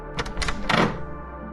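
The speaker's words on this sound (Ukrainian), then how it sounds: "Вона гупнула дверима." A few dull knocks and bumps, then a heavier thud near the middle, like a door being shut hard, close by with no voices.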